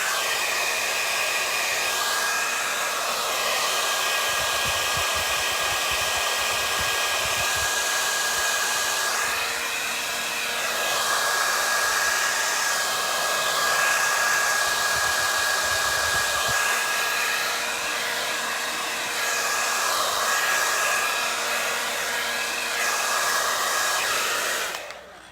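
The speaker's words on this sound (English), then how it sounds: "I want to take my blow dryer and I want to just blow this a little bit." A blow dryer runs steadily at close range for about twenty-five seconds, a constant loud whoosh with a high whine on top, blowing over a thrift store piece, with brief dips in pitch partway through and cutting off at the end.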